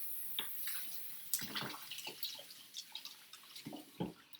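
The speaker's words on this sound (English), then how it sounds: "anybody who works with raw eggs should definitely wash your hands afterwards" Hands being washed under a running tap after handling raw eggs, a faint continuous trickle with scattered drips and splashes close by, quiet and without speech.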